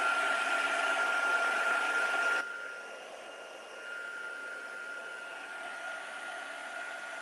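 A handheld heat tool blows hot air onto a flower-forming craft piece, a loud steady whooshing hiss that drops to a quieter, even level partway through and then runs on alone.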